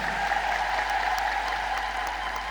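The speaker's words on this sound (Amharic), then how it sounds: "ለራሳችሁ አጨብጭቡ" Steady, dense applause from a large congregation of Ethiopian Orthodox Tewahedo church faithful, sustained and fairly loud throughout without a break.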